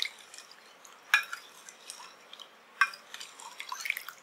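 Panakam, a drink of jaggery and lemon, trickles and drips through a strainer, faint and close, with two sharper splashes or clinks standing out among the soft dripping.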